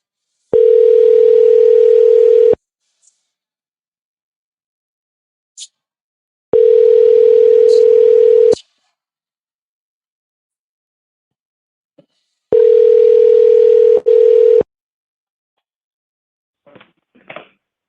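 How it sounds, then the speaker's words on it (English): A telephone ringback tone sounds during an outgoing call, three loud steady tones about two seconds long separated by gaps of roughly four seconds, with faint clicks in between. "let me call Wesley now and see if I can get him on the phone"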